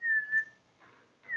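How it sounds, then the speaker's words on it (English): A child whistles a clear, steady high note, pauses briefly, then starts the same tone again. The whistle sounds close and is heard alone in a quiet room. "when you whistle in people's ears, it can hurt their ears"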